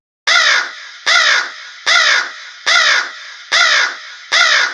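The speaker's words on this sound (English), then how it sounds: "A crow!" Six loud, harsh crow caws ring out close by at an even pace of roughly one per second, each one raspy and falling off quickly, with silence between them.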